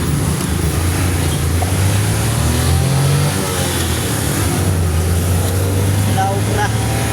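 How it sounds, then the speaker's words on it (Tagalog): Heavy road traffic with car engines idling and revving close by, a loud continuous rumble throughout. "Sobrang traffic."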